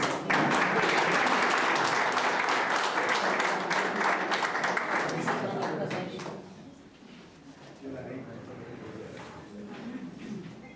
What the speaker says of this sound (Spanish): fuertes palmas, amigos